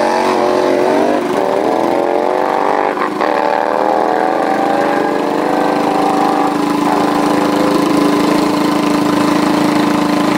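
A Harley-Davidson motorcycle engine at a German drag race meeting, a loud steady rumbling drone with shifting pitch as it idles and blips forward, close and continuous throughout.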